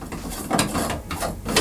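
A shower water filter being screwed into place by hand, with a few rough plastic scraping turns and clicks up close.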